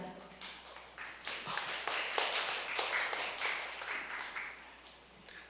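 An audience at a startup leaders' investor pitching forum claps to welcome a company executive to the stage, the clapping fairly quiet, scattered and dense over a few seconds.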